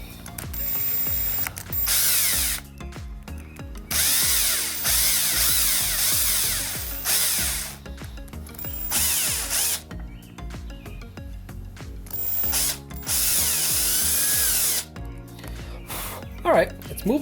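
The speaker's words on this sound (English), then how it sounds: "when I drill in, I don't poke out through the other side" A power drill bores into cured resin holding a pressed flower, whirring in repeated short bursts with pauses between, close and fairly loud, while a person talks throughout.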